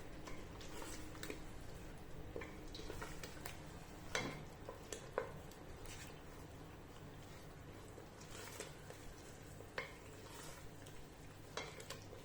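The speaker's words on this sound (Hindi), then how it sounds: "अच्छी तरह इनको 5-10 मिनट अच्छी तरह इनको भूनेंगे।" Chicken chole frying in a pan gives off a steady, soft sizzle, with scattered clicks and scrapes of stirring on top.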